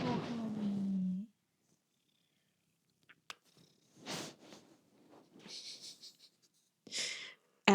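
A pet cat purrs close by in a quiet room for about a second, followed by soft scratchy rustles and breathy sniffing sounds.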